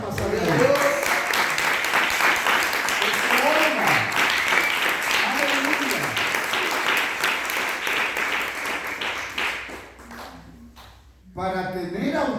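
A church congregation applauds loudly and steadily for about ten seconds over a preacher speaking Spanish, then the clapping fades and talk resumes.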